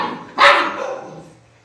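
A small female dog gives a single loud, close bark that rings out and fades over about a second.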